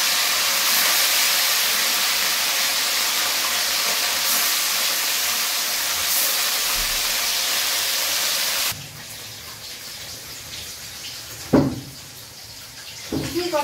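Katla fish pieces dropped into hot mustard oil in a kadai, a loud steady hiss of frying that cuts off partway, followed by quieter kitchen clatter and voices.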